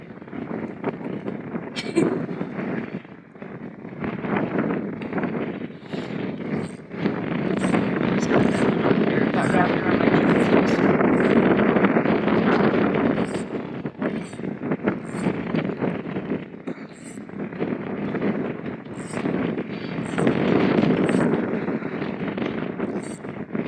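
Strong wind buffets the microphone outdoors while fishing for crappies, a loud continuous roaring rumble that swells and eases in gusts for the whole stretch.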